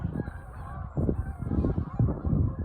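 Goose honking outdoors, a run of moderately loud calls over roughly three seconds against a steady background.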